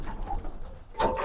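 Soft cooing from a white pigeon, a low murmuring call that swells toward the end, heard fairly close amid faint background noise.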